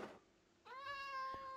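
A single Minecraft cat meow from the 1.19.4 Skyblock game, preceded by a brief soft blip, then a clear, close, rising-then-steady meow about a second long with no talk over it.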